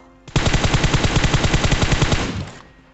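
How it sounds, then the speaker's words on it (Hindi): Automatic gunfire in a shooting video game on a phone, one loud rapid burst of evenly spaced shots lasting about two seconds before cutting off, with no talking over it. "राइट से फायर कर दी।"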